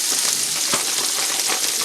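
Jumbo Gulf shrimp, deveined and peeled, frying in a pan with a loud, dense, continuous sizzle and crackle, close up and with no talking.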